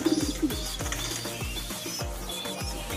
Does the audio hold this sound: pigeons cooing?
yes